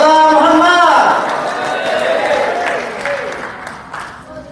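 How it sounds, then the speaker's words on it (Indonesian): An audience at an inauguration ceremony applauds, starting loud and full alongside a voice on a public address system, then thinning and fading gradually over a few seconds. "Tepuk tangan semua."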